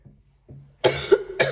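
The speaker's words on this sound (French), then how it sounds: "Je suis désolée pour la toux." A woman coughs twice, sharp and close, after a faint throat sound, with a short gap between the bursts.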